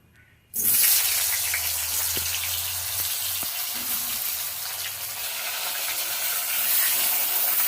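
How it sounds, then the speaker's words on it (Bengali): Potatoes coated in turmeric and salt drop into hot white oil in a kadai and burst into a loud, steady sizzle that holds on without pause after a brief quiet start, with a few soft clinks of a utensil early on. "হলুদ লবণ মাখানো আলুটা এবার ভেজে নেব"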